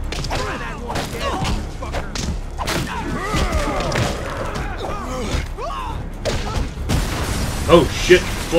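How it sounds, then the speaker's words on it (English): Heavy booming explosion thuds and crashing impacts from a Watchmen: The End is Nigh prison scene, several bursts scattered through, with voices talking over the action. "That explosion came from the shower room."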